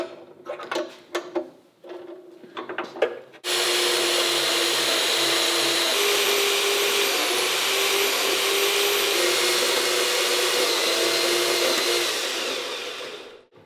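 A Parkside power saw pushed hard through a cut, running as a loud, steady high-pitched whine for about ten seconds after a few short bursts at the start, then fading out at the end.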